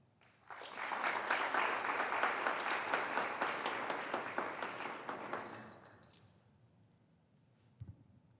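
Applause breaks out for a graduate walking to the podium at the Oklahoma State University Institute of Technology spring 2021 graduation ceremony. A dense, steady clapping crowd fills a large hall for about five seconds, then fades to quiet, with a single faint thump near the end.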